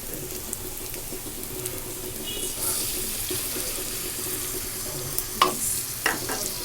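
Tomato sauce being mixed into lightly fried food in a pan: a steady soft sizzle with faint scraping strokes, then a few sharper clinks of the spoon near the end.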